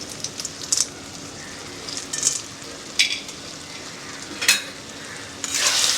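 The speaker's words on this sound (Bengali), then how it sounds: "আবারও আমি খুব ভালো করে নেড়ে দেব" Fried peanuts are stirred into taro leaf curry in a pan, with a close, steady sizzle broken by several sharp scraping strokes of a spoon against the metal.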